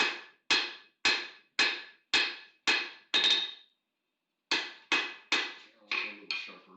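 Metal struck with a hammer on an anvil at a smithing bench: sharp ringing blows in a steady rhythm, about a dozen strikes with a pause midway, close and loud.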